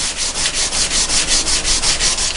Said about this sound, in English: So I gotta hit that with a file